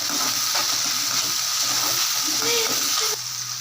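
Tomatoes softening in hot oil produce a steady close sizzle with occasional spatula scrapes and faint clinks, the frying hiss continuing evenly to the end.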